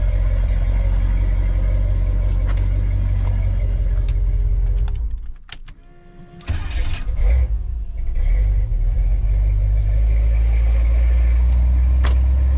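A Chevrolet Squarebody dually pickup truck engine idles with a steady low rumble, dipping quiet briefly in the middle before the rumble returns, continuous and close.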